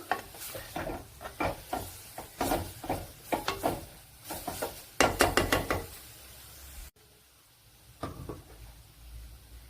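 Grated coconut being stirred and roasted in a pan for fish curry, with a busy run of rhythmic scraping knocks and a soft sizzle, then a sudden drop to a quiet stretch with a single faint knock.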